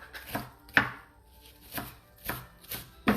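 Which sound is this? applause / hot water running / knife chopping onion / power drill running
knife chopping onion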